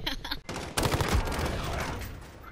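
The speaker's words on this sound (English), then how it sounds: "Did you shoot that?" Rapid gunfire from the video game Call of Duty: Modern Warfare, a dense, loud burst of shots that begins suddenly and carries on steadily with little gap.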